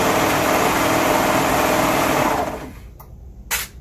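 A serger sewing machine runs steadily at high speed, stitching on a sleeve with a loud mechanical whir for a few seconds, then stops, leaving a couple of faint clicks.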